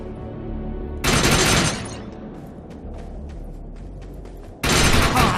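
Loud bursts of gunfire from the video game Defiance: two dense, sustained volleys of rapid shots separated by a stretch of quieter scattered pops and rumble, close and harsh.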